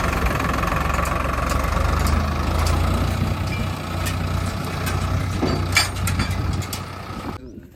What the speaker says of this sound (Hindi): 2 ट्रैक्टर यहाँ पे लगे हुए हैं।